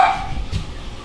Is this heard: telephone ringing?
no